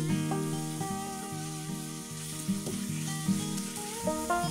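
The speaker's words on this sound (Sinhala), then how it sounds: "රුලන් ටික කැටි නැති වෙනකන් හොඳට හැඳි ගාලා කලවම් කරන්න." Semolina stirred with a spoon in water in a pan on the stove gives a steady wet sizzling, scraping churn, close and continuous, with no talk and a tonal music-like hum running beneath.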